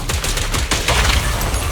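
Rapid gunfire in the action game Zenless Zone Zero, dense bursts of shots crackling continuously and loud, close up throughout with no gaps.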